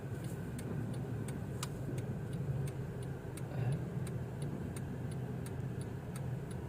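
A car driven on a road at a steady pace, its low engine and tyre rumble running continuously with a faint regular ticking, like an indicator, repeating throughout.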